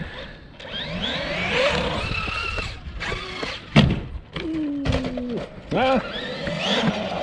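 A Traxxas Maxx V2 RC car bashing at a skate park lands after a jump with a sharp thud, amid whining motor sweeps and scattered knocks, with people talking nearby.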